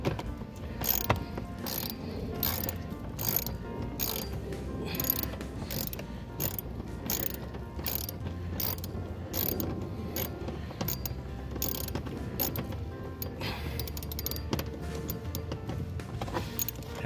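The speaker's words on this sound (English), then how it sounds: "using the ratchet, you need to turn it counterclockwise to remove the bolt." A ratchet wrench is turned counterclockwise to loosen and remove a bolt from the door of a 2000-2006 Nissan Sentra during a power window regulator job. It gives a steady run of rapid clicks and ratchets, close and continuous, with no talk.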